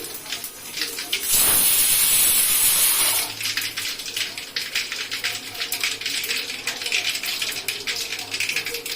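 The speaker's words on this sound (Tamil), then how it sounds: "கடுகு போட்டுக்கோங்க. கடுகு நல்லா பொரியட்டும்." Mustard seeds spluttering and popping in hot oil in a pan with fenugreek, a sharp sizzling burst followed by busy, continuous crackling that stays close and fairly loud.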